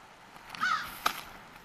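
A crow caws a couple of times, harsh and moderately loud, against a quiet outdoor background.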